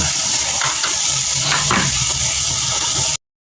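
A covered pot of food for a home-cooked dish boils on the stove, giving a steady, close hiss of bubbling and steam with faint clinks. It cuts off abruptly near the end.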